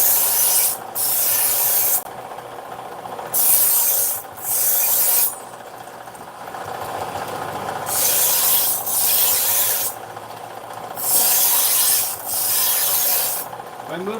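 Steel knife blank pressed against a belt grinding machine to cut a bevel, giving a loud, continuous abrasive rasp that swells and eases in repeated passes as the blade sweeps across the belt.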